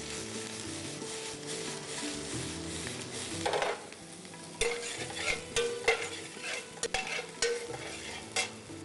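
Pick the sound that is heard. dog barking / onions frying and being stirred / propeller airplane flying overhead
onions frying and being stirred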